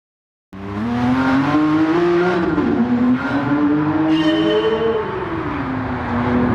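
Porsche 956 race car from 1983 in a racing game on the Nordschleife, its engine roaring loud and steady with rising and falling pitch through gear changes, close and continuous with no talk.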